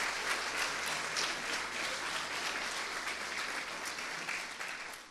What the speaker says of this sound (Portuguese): Você quer aplaudir? Aplauda com vivacidade.